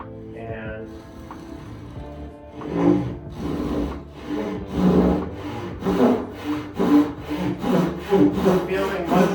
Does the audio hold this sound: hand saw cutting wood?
yes